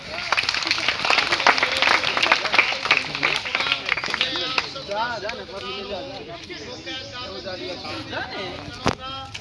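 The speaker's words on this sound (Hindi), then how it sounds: "एक बार जोरदार तालियां" Children and an audience at a school event in Ramnagar clap loudly and densely for several seconds, then the applause thins out while voices and chatter carry on.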